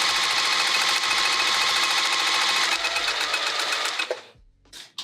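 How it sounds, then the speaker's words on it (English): Near and loud, a sewing machine set to a 3 mm stitch length runs a Teflon foot through quilted vinyl in a fast, even whir that slows, stops and gives a couple of short restarts. "And I'm just gonna start sewing."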